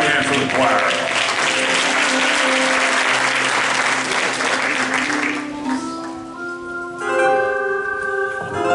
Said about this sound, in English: Clap your hands for the choir.